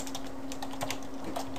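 Quick, light keystrokes on a computer keyboard while creating a file in Windows 7, close and fairly quiet over a steady electrical hum, with a few brief irregular taps.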